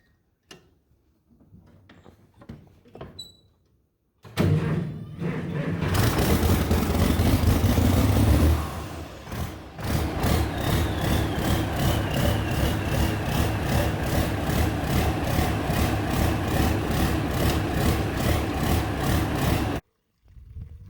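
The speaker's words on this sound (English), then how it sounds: "So I started the tractor," A farm tractor engine cranks, catches and roars loudly, then settles into a steady, rhythmic idle that runs for about ten seconds before cutting off, after a few faint knocks and clicks.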